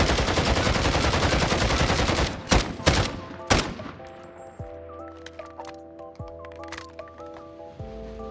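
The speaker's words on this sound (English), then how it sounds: "So this is how it looks like when I try to empty out my magazine." Rapid automatic gunfire in the video game Warzone as a magazine is emptied, a dense continuous burst for a couple of seconds, then a few sharp single shots amid game tones and clicks, with no talking.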